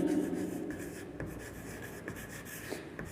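Pen or chalk writing out a money amount during a primary-school maths lesson, with steady scratchy strokes and a few taps across a few seconds, fairly faint, with no talking.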